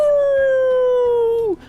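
Count Floyd's signature wolf howl, imitated by a human voice as a single long, strong wavering howl that slowly drops in pitch before breaking off abruptly near the end.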